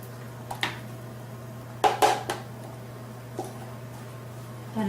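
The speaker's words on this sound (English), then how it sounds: "So I'm going to do 1/8 of a cup of my whiskey. And I'm going to just stir this up." A spoon clinks and scrapes a few times against a bowl while whiskey marinade for char siu is stirred, the taps sparse and close over a quiet steady hum.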